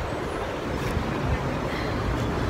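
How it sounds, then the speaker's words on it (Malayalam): Strong wind blowing outdoors among date palms in Abu Dhabi at night makes a constant loud rushing roar with heavy low buffeting against the microphone, steady throughout, with no talking. "ഈന്തപ്പനകളൊക്കെ ഇതാണ്ട് നല്ല കാറ്റിലാടിക്കൊണ്ടിരിക്കുക"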